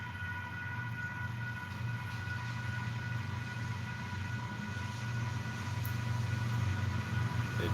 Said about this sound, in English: Oh, we have a train coming in.